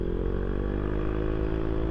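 A Honda ADV 160 scooter climbing a steep uphill road with a passenger on the back, its engine humming steadily and close with a smooth, even drone.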